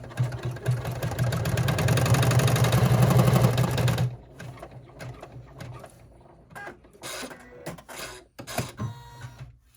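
An embroidery machine runs loud and steady for about four seconds, then stops, leaving scattered clicks, clacks and brief handling noises close by.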